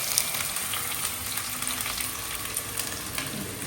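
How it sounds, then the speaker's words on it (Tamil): Half an onion frying in a little oil in a pan for a layered dum biryani, a continuous crackling sizzle with small pops, steady and close, no talking. "அப்படியே ஒரு பாதி ஆனியன் வந்து பொரிச்சு எடுத்துடலாம்"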